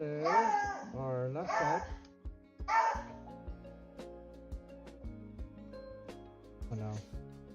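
A dog barks and whines in short bursts early on, fairly close, while someone speaks briefly over tapping and clinking from an airplane fuselage build in progress.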